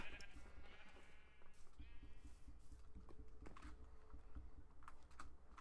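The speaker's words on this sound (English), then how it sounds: "So now we've got 6 black sheep." Minecraft sheep bleat several times in quick succession over busy keyboard clicking and steady game background noise, the calls fairly close and clear.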